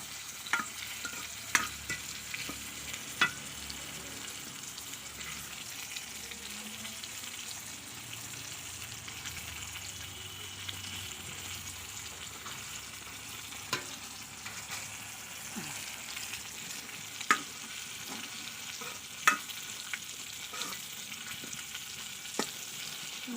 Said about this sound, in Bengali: মাছের জন্য মশলাপাতি পেঁয়াজ আগে থেকে তেলের মধ্যে ভেজে নিচ্ছি